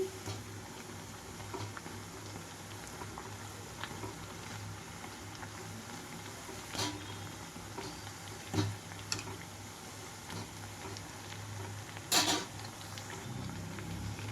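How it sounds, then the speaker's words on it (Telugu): Black-eyed pea fritters (garelu) deep-frying in hot oil give a steady, faint broadband sizzle with a low hum, broken by a few brief louder crackles and pops, with no talking. "మధ్య మధ్యలో 2 వైపులకి టర్న్ చేసుకుంటూ వేయించుకోవాలండి ఇవి"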